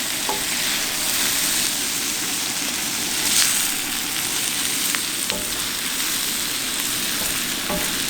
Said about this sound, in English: I decided to mix the meat in with the veggies and let it simmer some more